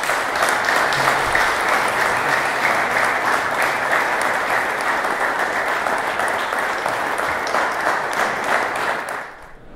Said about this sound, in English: Please join me in applauding these five municipalities.